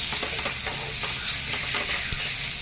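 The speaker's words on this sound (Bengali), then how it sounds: "এবার এইগুলোকে আমি ভালো করে একটু ভেজে নেব।" Turmeric, chili powder and salt frying in a pan, giving a steady close sizzle and hiss with soft intermittent stirring scrapes throughout.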